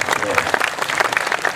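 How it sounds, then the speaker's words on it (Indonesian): An audience at a cultural forum at a university hall applauds with steady, dense clapping throughout, while a voice speaks over it. "Ke depan tepuk tangan untuk Mas Busro."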